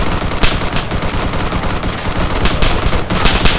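Loud, sustained machine-gun fire crackles in the Arma 3 video game, dense bursts of rapid shots rolling on without pause, close and harsh.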